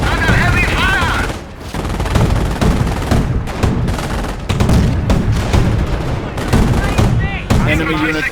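Heavy gunfire rattles in the Company of Heroes World War II battle, dense overlapping rifle and machine-gun bursts with booming impacts, loud and continuous with brief gaps, while voices call out over the fighting.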